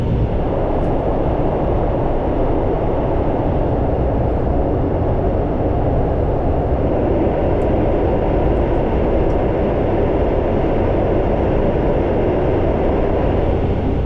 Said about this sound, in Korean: 부굴산역을 5분 늦게 출발한 열차는 잠시 후 동해선의 최장 터널인 송정터널에